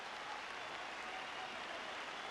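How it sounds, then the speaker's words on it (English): Football supporters at Tynecastle applauding the Hearts players after a 1-0 win over Clydebank, a steady wash of distant crowd clapping, faint and even throughout. "tumultuous applause."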